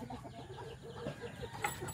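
Chickens cluck softly in the distance over a steady outdoor background noise.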